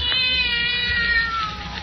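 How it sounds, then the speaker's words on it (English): A cat meows, a black cat sitting on a tabletop in an old 1947 radio drama, its voice heard over a steady bed of background noise with no one speaking. "What's that? Oh, there's a cat now."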